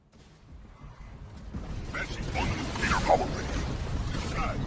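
Halo Wars 2 battle, a building under attack with rumbling explosions, mechanical clanks and whooshes swelling from quiet to a dense, loud mix of combat effects.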